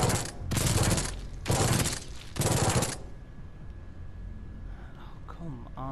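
A shotgun fires in the PS4 game Genesis Alpha One, four loud close blasts in an even rhythm over three seconds, followed by quieter game ambience.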